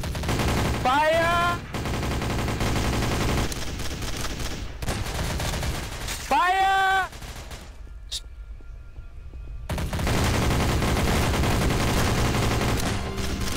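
Sustained volleys of gunfire from a firing squad in the multiplayer game SCP Breach, loud and dense with a brief near-silent gap partway through, while voices talk and shout over it.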